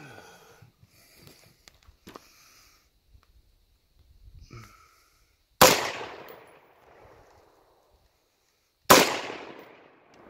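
Two sharp rifle shots ring out a few seconds apart, each a loud crack that fades quickly, after a stretch of faint rustling and handling noise.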